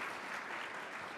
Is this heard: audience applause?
yes